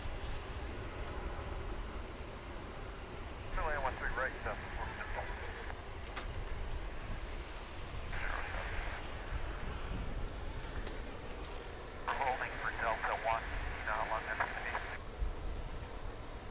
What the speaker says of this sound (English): An American Airbus A319 is now taking off.